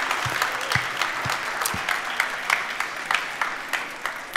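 An audience at the Green Product Award Fashion 2023 ceremony claps steadily, a dense, even wash of applause from a moderate-sized crowd that holds throughout with no voices over it.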